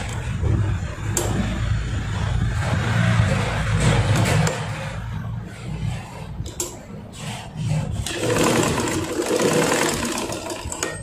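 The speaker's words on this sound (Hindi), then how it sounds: "इसके एक सिलाई ले लेते हैं यहाँ पे।" A sewing machine stitches a fabric strap for a bra made from an old T-shirt, giving a continuous close mechanical whir with low thumping and slight fluctuations over about eleven seconds, no voices.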